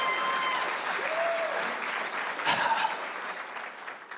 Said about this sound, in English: Round of applause for Mrs. Keynes scrolling.